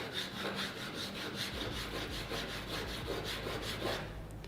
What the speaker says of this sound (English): with a diamond stone like this, I'm just gonna lay it flat and go back and forth